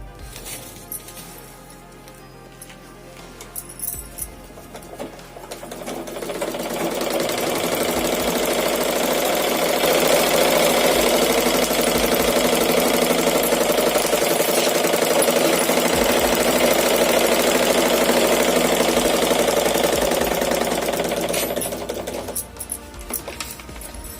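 A sewing machine stitching small stitches runs in a dense, continuous mechanical whir that swells after a few seconds, holds steady close by, then tapers off near the end.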